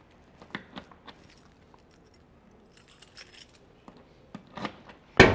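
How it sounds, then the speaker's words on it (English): A large bunch of keys rattles and clinks at a 1967 Pontiac GTO, sparse metallic jingles building to a loud sharp clatter at the end, no talk. "I got way too many keys here"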